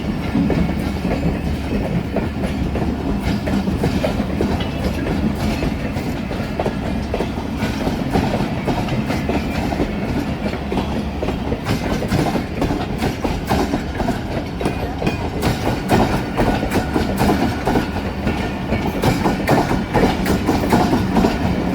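Millat Express passenger coaches rolling along the rails, a loud, steady rumble with rhythmic clickety-clack from the wheels over rail joints continuing throughout, without voices.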